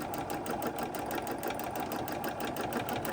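A sewing machine stitching free-motion quilting in a meandering pattern, its fast rhythmic needle chatter running steady and close with a humming motor underneath.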